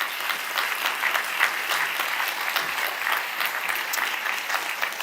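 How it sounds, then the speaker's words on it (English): Steady applause from a conference audience for a panel of speakers at an international IP enforcement summit, a dense even patter of many hands lasting several seconds at moderate distance with no voices. "How about a round of applause for our panelists?"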